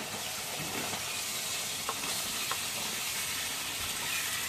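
Bottle gourd sautéing in a spiced pan, a soft steady sizzle and hiss running throughout with a couple of faint scrapes from stirring, no voices.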